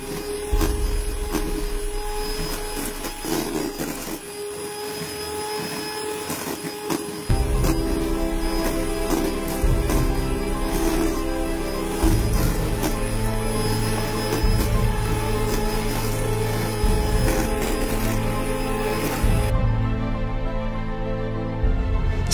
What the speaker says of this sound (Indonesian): Sambil terus dikocok di mixer, jangan berhenti.